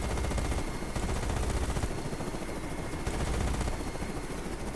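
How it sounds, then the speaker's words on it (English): Distant gunfire and helicopter rotor noise in the video game Carrier Command 2, a dense continuous rattling wash of shots and chopper thrum, steady and moderately loud throughout with no talking. "explosions and chopper bullets in the distance"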